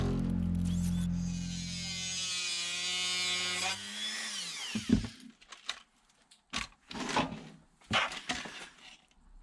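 A small power tool trims plastic RC car body parts for a WPL B1 build, whining steadily at high speed for several seconds and then winding down, followed by intermittent short bursts of buzzing cuts.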